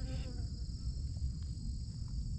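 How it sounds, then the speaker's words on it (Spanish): A steady insect buzz hums close by over low outdoor rumble, continuous for the whole stretch without pause. "anda una abeja"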